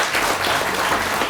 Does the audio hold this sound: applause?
yes